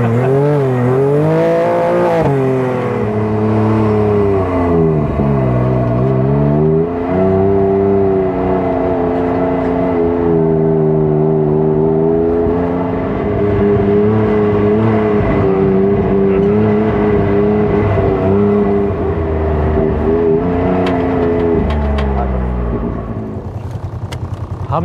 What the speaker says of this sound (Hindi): हम लोग जी अभी एक छोटे वाले बगी में आए हैं